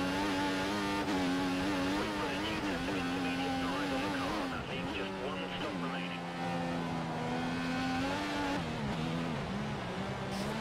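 Formula 1 car engine in the F1 2014 video game at Monaco, a steady high-pitched whine that rises and dips as the throttle is eased through slow corners, with someone talking over it throughout.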